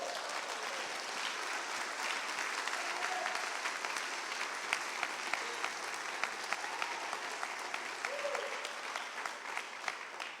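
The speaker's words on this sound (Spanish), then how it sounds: "Si va a aplaudir, aplaude al Señor." A church congregation applauds during a Spanish-language sermon, with steady, sustained clapping from a crowd that stays moderately distant.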